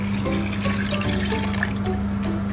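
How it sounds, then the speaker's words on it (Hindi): Chickpea cooking water is poured into a pot of chicken and chickpea soup, giving a continuous close splashing and gurgling flow over a low steady hum, with no talk. "इसमें पानी डालेंगे छोलों का,"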